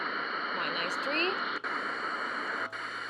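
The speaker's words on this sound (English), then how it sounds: "Let me show you the white noise function." Steady hissing white noise from a baby sound machine plays continuously at moderate volume, briefly dipping twice, with no speech over it.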